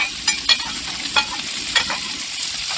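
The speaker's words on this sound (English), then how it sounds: "we're gonna put the onions right on top of that to let the onions cook inside the bacon juice" Sliced onion frying in bacon fat on a Blackstone griddle, a soft continuous sizzle broken by several sharp spatula scrapes and taps at irregular intervals.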